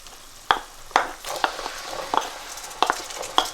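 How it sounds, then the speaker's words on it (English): Chickpeas, 500 grams, cooking in a pan on low heat for Punjabi aloo chana, with a soft sizzle under a series of sharp stirring clinks and scrapes at irregular intervals, close by. "So this is the time for the chickpeas to go in now."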